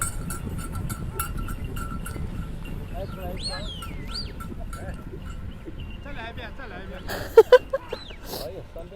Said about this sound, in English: Oh, this one got a bell.